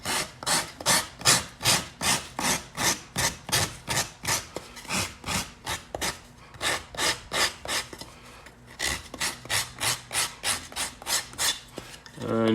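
Yellow foam is shaped by hand with a rasping tool, a loud close scrape repeated in rapid even strokes, about two or three per second with a short pause midway, no voices.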